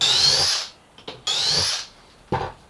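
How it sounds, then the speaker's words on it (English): Two loud bursts of a power drill boring pocket holes into wood, each whining upward in pitch, separated by brief clicks and quiet, with a short final burst at the end. "Drill a couple more."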